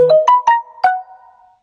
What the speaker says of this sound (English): my phone loves to go off